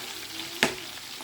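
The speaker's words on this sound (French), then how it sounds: "je vais essayer de mélanger s'il y a des parties qui ne sont pas bien immergées" Chicken tenders frying in hot oil get a quick stir, a single sharp scrape-and-splash burst over a steady low sizzle, with no voices.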